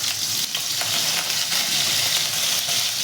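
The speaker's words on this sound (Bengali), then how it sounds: "কড়াতে আরেকটু সাদা তেল দিয়েছি, দিয়ে এর ভেতরে আমি টমেটো কুচি দিয়ে দিচ্ছি, দিয়ে টমেটোটাকে একবার ভালো করে নাড়বো" Chopped tomato frying in white oil in a wok: a bright, dense, continuous sizzle with a few soft stirring scrapes, close and loud with no talking.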